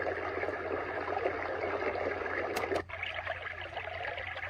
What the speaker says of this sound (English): This is stream in a cave.